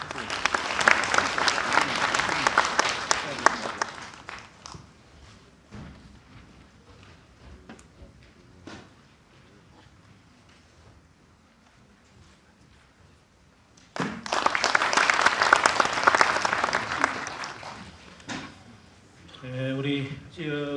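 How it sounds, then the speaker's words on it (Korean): Audience applause in a hall greets the mayor of Gyeongju at a 2020 citizens' forum on Gyeongju University, with two loud bursts of clapping separated by a quieter stretch, and brief talk near the end. "큰 박수로 맞이해 주시기 바랍니다."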